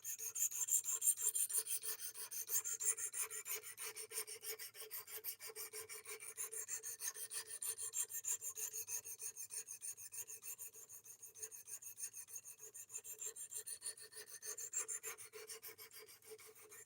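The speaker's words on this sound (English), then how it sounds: "we're already sharpening" A bushcraft knife's worn factory edge is sharpened in rapid, rhythmic rasping strokes against a stone, close and fairly quiet, continuing steadily with no voices.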